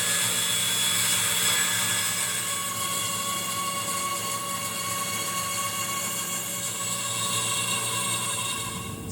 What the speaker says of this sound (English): now we can bandsaw it out